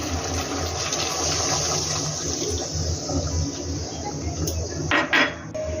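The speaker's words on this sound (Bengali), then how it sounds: "এবার দেবো কর্নফ্লাওয়ার গোলা জলটা।" Cornflour mixed with water goes into an egg chilli gravy in a pan, with a continuous close wash of liquid noise, light clinks of utensils against cookware, and a sharper splash near the end.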